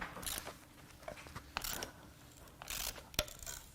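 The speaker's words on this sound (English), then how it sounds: "the very first thing we are going to try is a regular socket, extension, and my ratchet, my 3/8 ratchet" A 3/8-inch ratchet with a socket and extension works on a bolt of a Ford 6.8L 3V V10 engine during teardown: faint, close bursts of rapid ratcheting clicks with a few sharper snaps between quiet pauses.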